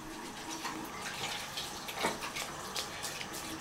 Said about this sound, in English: Wash your hand with soap.